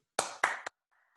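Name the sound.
people clapping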